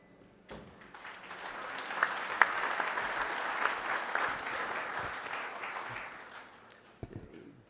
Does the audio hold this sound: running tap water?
no